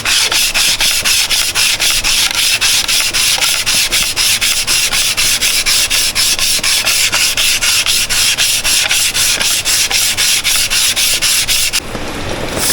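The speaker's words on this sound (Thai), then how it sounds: "กากเพชรครับเอาลงไปหลังจากนั้นก็ขัดครับ ถูไปถูมาแบบนี้" A hair clipper blade is rubbed back and forth on diamond grit to sharpen it, making a loud, steady rasping scrape with a fast, even rhythm. The scrape runs almost the whole time and stops near the end.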